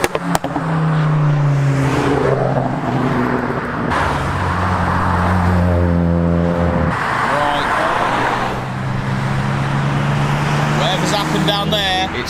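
A turbocharged Ford Escort Cabriolet drives past on a road, its engine rising and falling loudly with shifting tones over steady traffic noise, and a voice speaks briefly over it.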